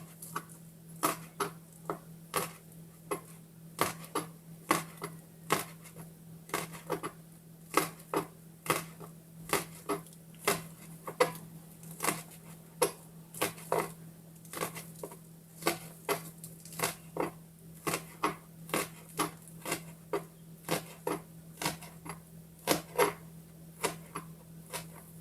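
A knife slices a stick of ingredient thinly on a cutting board for Trinidad pig foot souse, giving a steady run of crisp, evenly spaced chops, close and fairly quiet, with a faint low hum underneath.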